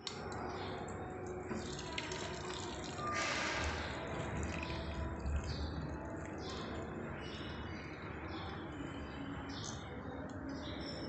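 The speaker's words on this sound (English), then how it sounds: "Ask an adult to gently pour hot water into the bowl till it's full." Hot water poured gently into a bowl for a heat conduction experiment, a steady watery trickle filling the bowl over a constant noisy background, with faint chirps above it.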